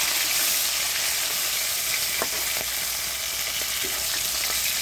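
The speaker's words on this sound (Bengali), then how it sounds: "এই যে আমি মাছগুলো উল্টিয়ে দিচ্ছি।" Fish fry in oil in a pan as they are flipped, producing a loud, constant close-up sizzle with a few brief taps and clinks of the turner against the pan, no one talking.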